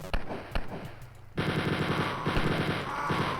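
Mutants firing guns in the video game Wolfenstein 3D: a few sharp single shots, then a loud, continuous rapid stream of machine-gun fire.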